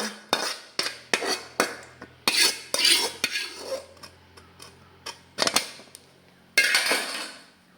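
Spoon clattering against a bowl while mixing sesame and ghee-fried coconut for unniyappam batter, a series of sharp metallic taps and scrapes in an uneven rhythm, close and clear with no talking.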